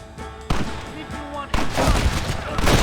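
Gunfire in a Red Dead Redemption shootout while a gate is rigged with explosives, with heavy bursts of shots coming in two loud surges over background game sound and voices.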